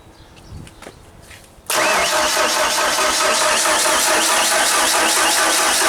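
A Genie boom lift engine fires on a shot of brake cleaner sprayed into the air intake; after a few quiet cranking sounds it catches abruptly and roars into a loud, steady, close run that lasts to the end.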